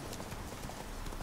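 Steady clip-clop of horse hooves from Roach, Geralt's horse in The Witcher 3: Wild Hunt, a fast even rhythm of hoof strikes that runs continuously at a moderate level throughout, with no talk.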